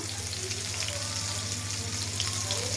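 Whole cumin seeds, chopped onion and ginger paste frying in hot oil with bay leaves: a continuous, even sizzle and hiss close by, with a faint low hum underneath and no speech.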